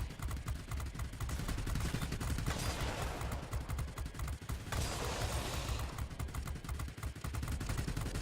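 Aircraft guns fire steadily in the World of Warplanes video game from a Russian Ilyushin IL-40P attack plane, a dense continuous rattle of rapid shots over engine drone, sustained throughout at moderate loudness without speech.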